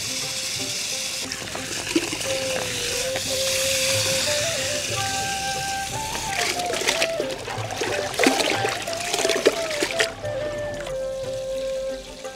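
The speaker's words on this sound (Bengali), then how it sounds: "এখন আমরা চালটা ধুইতেছি" Rice is rinsed in water in a village kitchen, giving a steady close sloshing and trickling with splashes and pouring, continuous throughout at moderate loudness.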